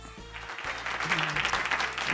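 Short burst of crowd applause and cheering from a studio audience reacting to a sports headline, swelling across a couple of seconds with no clear speech over it.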